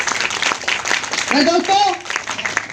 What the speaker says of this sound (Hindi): तो अगर आप इंसान हैं तो ताली खुल के बजाइएगा